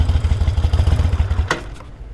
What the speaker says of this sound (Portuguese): Nossa, a moto morreu.